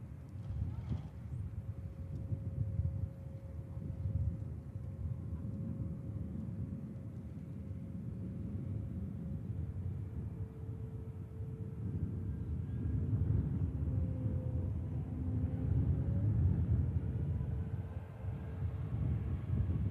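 A Turkish Airlines jet at Manchester Airport makes a continuous low engine rumble that swells slightly as it passes at a distance, heard as a steady roar throughout.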